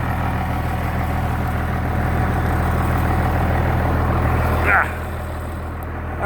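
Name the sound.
tractor engine idling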